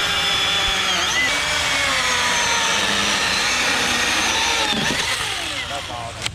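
A Milwaukee chainsaw cuts up a fallen tree across an off-road trail. It whines loud and continuous, and the pitch bends as the chain bites into the wood.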